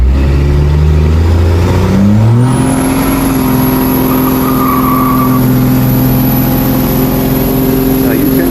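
A Cummins 12-valve diesel pickup truck engine is run up to warm it before a blowby test. A loud, close, rumbling idle climbs to higher revs after about two seconds, picks up a high whine, and holds there steadily.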